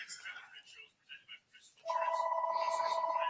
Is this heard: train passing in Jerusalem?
no